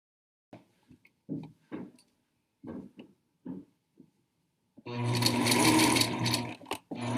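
After a few brief, scattered sounds, a sewing machine stitching the side seams of boxer shorts starts up close and loud, running in a steady mechanical whir for about two seconds before stopping.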